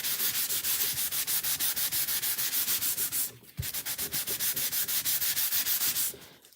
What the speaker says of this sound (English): I'm just going to wax the bottom part where we didn't paint